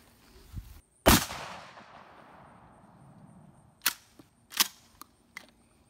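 A 12 gauge smoothbore shotgun fires a slug during an outdoor accuracy test, one sharp, loud blast with a long fading tail, followed by several smaller clicks and knocks of the gun being cycled.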